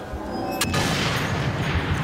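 A sniper rifle shot in the video game Sniper Elite 3 cracks out as a single loud, sharp report, then a rumbling boom and a dense tail that echo on under the game's sound.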